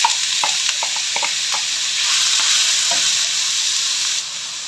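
Potatoes frying in a pan for a potato and egg dish, giving a loud, steady close sizzle throughout, with a few scraping stirs early on and the hiss easing slightly near the end.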